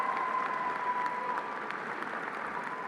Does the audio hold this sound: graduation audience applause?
yes